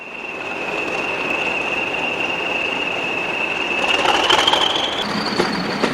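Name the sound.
British Rail Class 40 diesel locomotive departing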